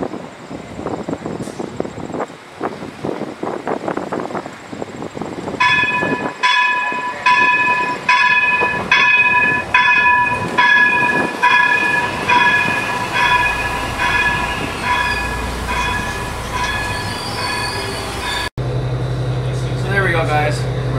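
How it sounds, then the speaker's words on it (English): A light rail O train pulls into a station with steady rumbling and rhythmic clicking, then a series of repeated electronic chimes sounds as it stops, with people talking nearby. "Here comes our ride, right on time. The O train to Greenboro."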